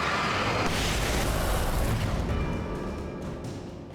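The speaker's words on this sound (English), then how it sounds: "Flashbang!" A flashbang grenade goes off in the Alan Wake video game as a loud, broadband blast that fills the opening seconds, then slowly fades into a lingering roar.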